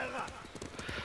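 Horses in the video game Ghost of Tsushima gallop away with quick, rhythmic hoof clip-clops and a whinny, moderately close, over game music and voices.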